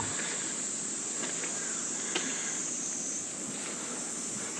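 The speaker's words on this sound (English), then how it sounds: "hear the cicadas? There's sort of a metallic buzzing in the background." Cicadas on Ninoshima island near Hiroshima drone in a steady, high, metallic buzz that sits faintly in the background throughout, with no talking.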